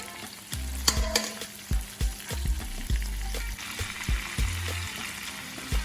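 A ribeye steak in a frying pan sizzles steadily, close by, with low rhythmic thumps and clinks from handling throughout and no voices.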